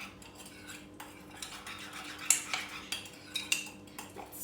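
A spoon stirring mug cookie batter with egg yolk in a mug makes quiet scraping and several light clinks against the sides, close but soft, with no talk.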